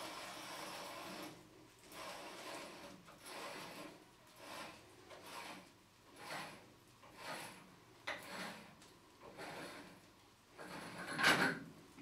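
A threading die being wound off steel conduit, giving a soft rhythmic rasping and grinding that rises and falls with each turn, faint and close, ending in a brief sharper scrape.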